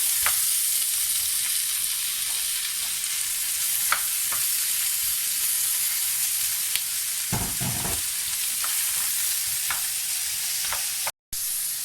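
Onion, garlic, mushrooms and escalopes sautéing in a pan, a steady loud sizzle with occasional stirring scrapes and a brief dropout near the end.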